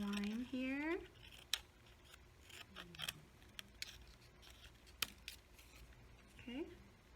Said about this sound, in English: I'd like for you to cut it out along the line here.